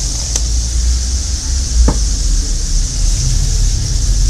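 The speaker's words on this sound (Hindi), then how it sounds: "मैदे को आपने इस तरह भूनना है कि लम्स ना पड़े।" Flour and fried garlic roast in a pan for white sauce pasta with a steady, soft sizzle and hiss, joined by a low hum and a couple of faint clinks.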